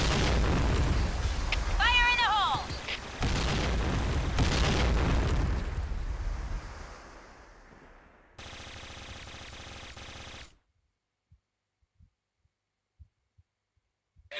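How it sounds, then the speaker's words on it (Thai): Explosions and gunfire in a shooter video game give heavy booming blasts and rapid bursts under overlapping voices, then the sound cuts out to near silence with a few faint thumps. "ระเบิด"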